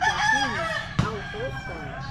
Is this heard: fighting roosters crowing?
yes